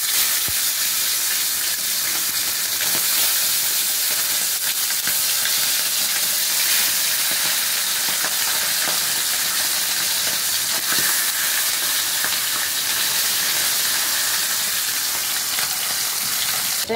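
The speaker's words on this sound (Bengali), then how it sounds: "তেলটা গরম হয়ে গেছে, এখন আমি মাছগুলো আস্তে আস্তে ছেড়ে দেব" Fish slides into hot oil and fries with a steady, loud, continuous sizzling hiss that holds evenly for the whole stretch, with no voices over it.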